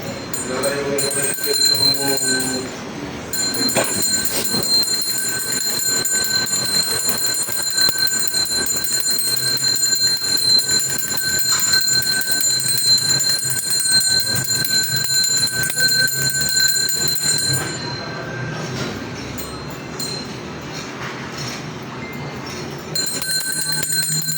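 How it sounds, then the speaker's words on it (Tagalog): A bell rings steadily for a long stretch, loud and close, with voices talking underneath and background bustle. "Tunog mo yung bell."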